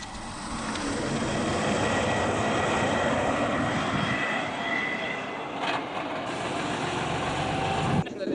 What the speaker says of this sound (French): elle a repéré le mouvement de décollage et d'atterrissage normal des avions